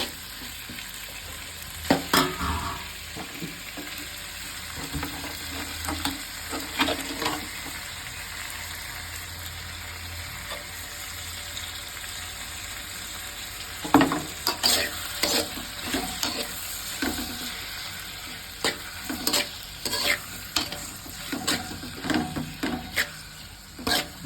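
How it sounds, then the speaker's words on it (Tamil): Tomatoes sautéing in a pan for Tamil-style thakkali thokku: a soft continuous sizzle broken by repeated scraping stirs of a spatula, clustered in bursts, close and moderately quiet with no talking. "தக்காளி நல்லா வதங்கணும்."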